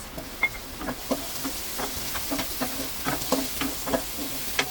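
White onion and tomato being sautéed in a pan for beef kaldereta, a continuous moderate sizzle broken by repeated clicks and scrapes of stirring, no talking.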